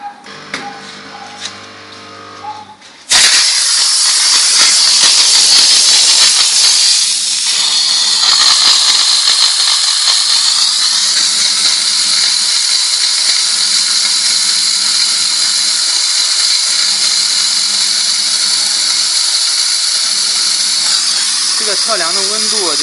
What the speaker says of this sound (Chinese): 这个测试的蒸汽绳长度是10米长的一个蒸汽枪管